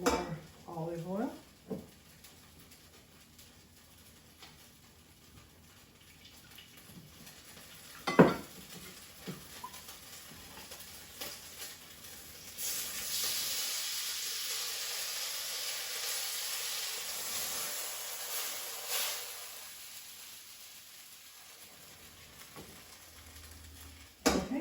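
Beef pieces sizzle in olive oil in a frying pan for broccoli beef, a soft steady hiss that swells louder midway, with occasional clatter of a utensil against the pan.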